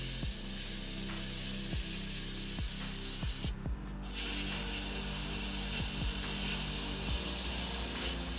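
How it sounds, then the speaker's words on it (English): Steady hiss of a sandblaster blasting residue off a freshly cast metal bolt part, a continuous spray with brief interruptions and faint clicks, fairly quiet and close. "I used my sandblaster to blast off the rest."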